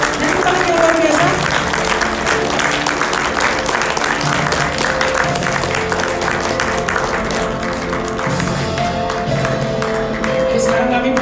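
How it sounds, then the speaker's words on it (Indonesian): Audience applauding at an award ceremony, dense sustained clapping from a sizable crowd lasting the whole stretch, with some background voices and music mixed in. "Tepuk tangan yang luar biasa."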